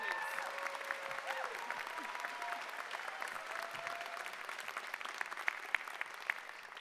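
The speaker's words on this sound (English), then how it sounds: "Another round of applause for them, please." An audience claps through a university commencement ceremony, with dense, steady applause filling the hall and a few louder claps near the end, while faint voices carry over the crowd.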